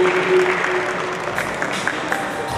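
A brief burst of clapping from a small audience, steady and moderately loud, with a faint tonal hum running underneath.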